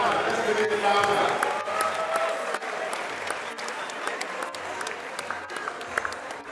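An audience at a gathering welcoming a governor bursts into sustained applause, with dense clapping that gradually thins out, while a voice speaks over the crowd.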